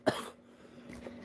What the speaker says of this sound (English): I have this really bad cough